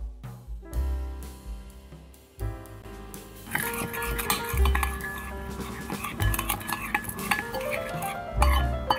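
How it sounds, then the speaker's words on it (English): Marinade ingredients for smoked mackerel are mixed in a bowl, with repeated clinks and scrapes of a utensil against the dish, close and lively, and some faint background music. "you're going to go ahead to mix all of these ingredients together except for the salt."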